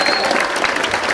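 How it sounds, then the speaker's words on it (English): Pass holders in a theme-park crowd applaud, a dense, steady wash of clapping filling the whole moment at close range. "Give yourselves a big round of applause for being so great"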